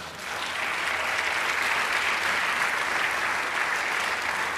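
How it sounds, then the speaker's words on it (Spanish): A church congregation applauding, a dense, steady wash of clapping that swells in after a brief quiet start and holds evenly throughout, no voices standing out. "Dale un aplauso al Señor"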